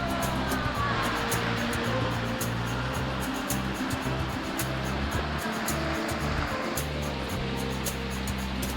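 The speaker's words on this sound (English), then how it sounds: "We find a waterfall." Waterfall near a campsite among streams and lush greenery, giving a steady, close, full roar of rushing water throughout with no pauses.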